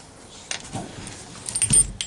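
Metal keys jingle and clink in a truck door lock in a few short bursts, close by, with a faint click of the lock near the end.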